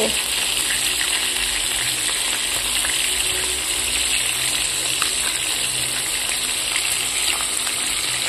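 Yellowfin tuna frying in a pan, a steady dense sizzle and crackle of hot oil running unbroken throughout, fairly loud and close with no talk over it.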